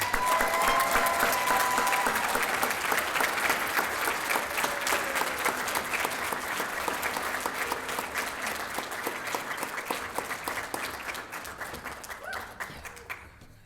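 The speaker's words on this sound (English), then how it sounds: "Let's give a big round of applause for Jackie." An audience applauds at a student distinguished service award ceremony, dense sustained clapping from a large crowd that slowly thins toward the end.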